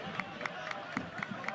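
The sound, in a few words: Oklahoma City coach clapping at soccer match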